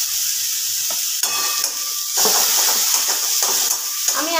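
Ginger and garlic fry and get stirred in a pan, bright loud sizzling with scraping strokes of a spatula and occasional metallic clinks, growing more intense after a couple of seconds, no talking.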